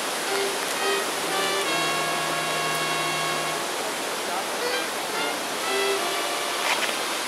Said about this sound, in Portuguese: Coisa linda essa cachoeira, cara.